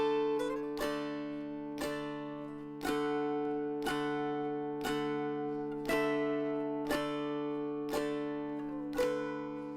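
Dulcimer picking out Amazing Grace with a pickup note and three steady quarter notes per measure, each plucked chord ringing out in an even, moderately loud rhythm with no voices.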